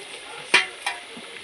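Mutton marinated in yogurt is stirred in a pot while making biryani, giving two quick scraping strokes close by over a soft, steady sizzle.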